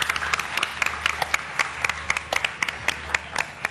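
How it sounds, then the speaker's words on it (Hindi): An audience claps in a crowd to welcome a guest named Bilal on stage, a brisk patter of sharp, close hand claps in loose rhythm over steady background noise, with no voices over it. "तो जोरदार तालियों में हम वेलकम करेंगे बिलाल को"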